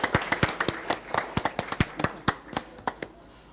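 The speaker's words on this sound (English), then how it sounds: "could we please offer them a round of applause?" Scattered, uneven claps from a small audience at an academic symposium, sharp distinct hand strikes tapering off over a few seconds, fairly faint and without voices.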